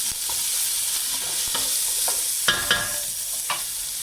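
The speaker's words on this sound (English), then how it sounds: "Keep stirring" Onions and two chilies frying in a pan while being stirred: a steady sizzle with a few sharp scrapes and knocks of the spoon against the pan, close and fairly loud, with no talking.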